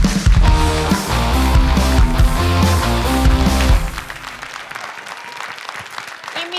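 Loud, dense applause from a studio audience for a guest at a talk show, mixed with bright music, swelling and holding for several seconds before thinning out and fading near the end.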